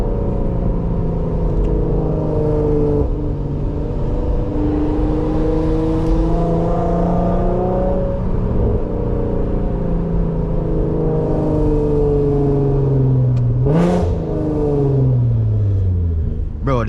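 A lowered car riding on Megan Racing coilovers drives along with a steady engine drone and road rumble. The revs rise and fall with gear changes, heard continuously and loud from inside the car.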